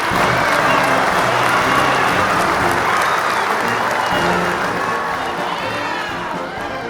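Crowd of students and professors at a Founders' Day gathering in a hall bursting into sustained applause and cheering, a dense, loud roar of clapping and shouts that holds steady and only slightly fades toward the end.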